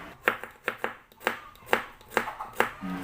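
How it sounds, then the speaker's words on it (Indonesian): Two garlic cloves are thinly sliced with a knife on a board, a run of crisp, close taps in an uneven but regular rhythm, quiet and free of talk. "Ini aku gunakan 2 siung bawang putih diiris tipis juga"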